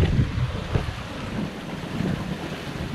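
Wind rising over the open Pacific aboard a sailboat between Kiribati and the Marshall Islands, a steady, loud rush and buffeting against the microphone with low water wash beneath, no voices.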